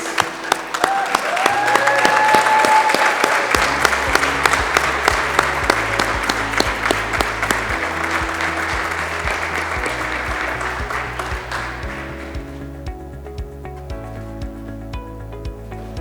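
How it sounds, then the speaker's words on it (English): A graduation crowd at Kepler's Kigali campus applauds its graduates with loud, sustained clapping. Music with a steady beat plays underneath and carries on as the clapping fades toward the end. "I want you to give them a rounding show of applause"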